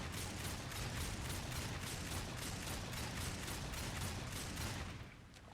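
Mercy, a gun that never needs reloading, firing nonstop in the video game Darksiders, a dense unbroken stream of rapid shots at steady volume that cuts off near the end.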